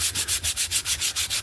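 Rhythmic sanding strokes scrape back and forth against a glossy board book cover, about ten even passes in quick succession, close and clear.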